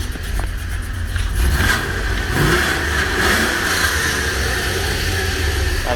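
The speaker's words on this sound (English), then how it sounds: "the rattling you hear is from her stock exhaust system, which is still on board." A 2005 Tahoe fitted with new headers and coil plugs revs hard and loud throughout, its stock exhaust system rattling beneath the rough, continuous engine roar, with no talking.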